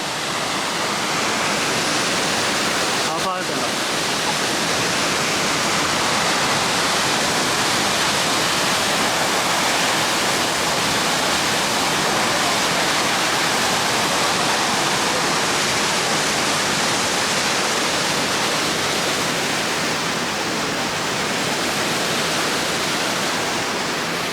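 A powerful waterfall beside the Athirappally–Valparai road roars in a dense, unbroken rush of falling water, loud and close, filling the whole span without pause.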